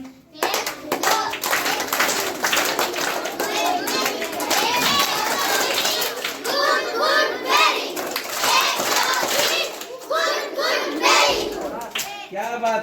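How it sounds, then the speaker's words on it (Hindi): Schoolchildren clap together in a classroom, a dense, steady patter of many small hands running for several seconds, with children's voices mixed in. "क्लैपिंग।"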